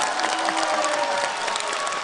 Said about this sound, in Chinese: 这个掌声不情愿就算